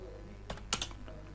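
A few quick, soft keystrokes on a computer keyboard, clustered into a brief burst of faint clicks over a low background hum.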